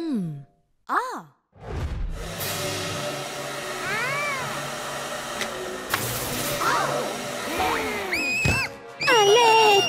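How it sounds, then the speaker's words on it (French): A hair dryer runs with a steady whooshing hiss through most of a children's cartoon scene, while high-pitched character voices and cat-like meows and sighs sound over it. "Vous devez demander de l'aide à un adulte quand vous utilisez le sèche-cheveux."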